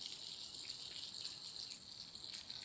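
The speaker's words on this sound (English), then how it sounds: "I'm going to turn the water on" Water running from an outdoor tap, a steady continuous hiss and gush, fairly faint, with no talk over it.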